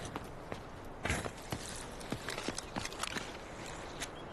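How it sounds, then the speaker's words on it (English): A player runs in the Delta Force video game, with a string of quick, uneven footstep taps over a low background hum, some steps sharper and louder than others. "This guy, he sounds like he's just running. His footsteps just got muffled."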